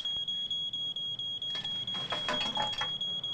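A piercing electronic alarm sounds in a building, a fast steady pulsing beep repeating throughout, with scuffling movement and bumps audible underneath.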